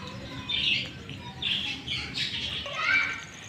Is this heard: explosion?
no